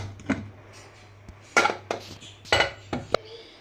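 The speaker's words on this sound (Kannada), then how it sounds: "ಕುಕ್ಕರ್ ಓಪನ್ ಮಾಡಿ ನೋಡೋಣ ಯಾವ ರೀತಿ ಆಗಿದೆ ಅಂತ" A steel pressure cooker holding drumstick dal sambar is opened in a home kitchen, with several sharp, separate metallic clinks of the lid, pots and utensils over a quiet background.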